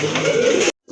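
A pair of Jhorna satin pigeons coos loudly and close up in one sustained, throaty burst that stops abruptly, followed by a brief silence.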